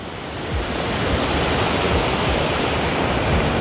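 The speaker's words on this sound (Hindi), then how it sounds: "तो गाइस ये है वाटरफॉल, गल्लू वाटरफॉल।" Gallu waterfall near Dharamkot, Dharamshala, swollen after rain, pours in a dense, steady roar of rushing water, loud and close with no pauses.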